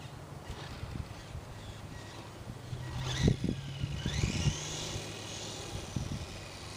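A Madgear Desertwolf RC short course truck drives outdoors, its small electric motor whining and revving in rising bursts, with bumps and rattles from rough ground, moving near and then farther away.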